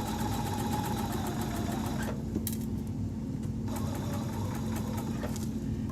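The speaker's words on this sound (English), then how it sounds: "I am going to do a back stitch up at the top" Sewing machine back stitching the top of a pillow seam, a loud steady rapid mechanical whir running throughout, briefly slowing in the middle as the stitch reverses before picking back up.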